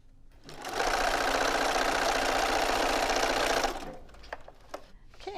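A sewing machine stitches quilt pieces together in one steady, loud run of about three seconds, then stops, leaving soft handling noises.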